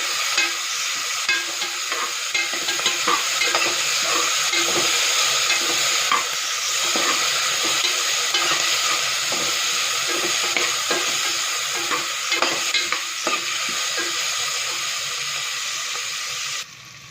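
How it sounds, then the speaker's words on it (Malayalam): Sliced onions soften in a pan with ghee added, a loud, even sizzle running throughout with frequent light scrapes and taps of a stirring spoon, close and uninterrupted until it fades at the very end. "വഴറ്റിക്കൊണ്ടിരിക്കുന്ന സവോളയിലേക്ക് ഒരു സ്പൂൺ നെയ്യ് കൂടി ചേർത്ത് കൊടുക്കുവാണേ"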